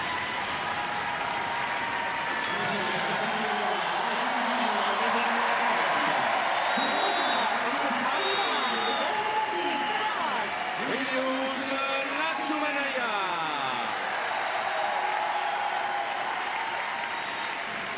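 A crowd applauds steadily at a para judo match after a winning throw, a dense sustained wash of clapping throughout, with a commentator's voice running over it.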